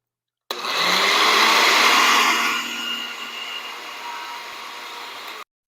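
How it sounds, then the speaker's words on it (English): Honey vinaigrette whirring in a blender, a loud, dense motor roar that starts abruptly, runs strong, then drops to a lower, steadier drone before cutting off. "So we're going to go ahead and blend that up"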